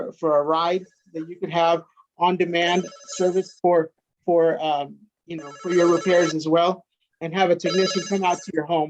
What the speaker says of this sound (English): I do apologize for the phone going off on my end here.